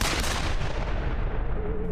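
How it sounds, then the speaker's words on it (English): Gunfire in a film scene cutting to the outside of an office, heard as a dense, loud burst of sustained noise filling the whole clip rather than two cleanly separated shots. "We cut to outside the office, and then 2 gunshots."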